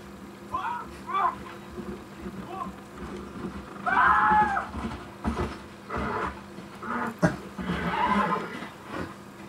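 Horse in the Red Dead Redemption video game neighing and whinnying several times, loud and close, over a busy background of ambient game noise and faint clip-clop.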